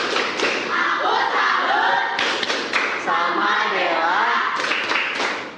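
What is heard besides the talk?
group clapping a rhythmic salute cheer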